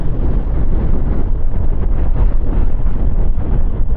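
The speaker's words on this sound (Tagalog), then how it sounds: "Ang lakas ng hangin pati." Strong wind buffets the microphone outdoors on a drizzly ride, a loud, steady rumbling roar that fills the whole stretch with no voices.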